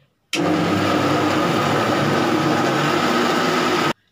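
A mixer grinder whirs steadily at full speed while blending garlic cloves into paste, starting abruptly and running loud and unbroken for a few seconds before cutting off sharply.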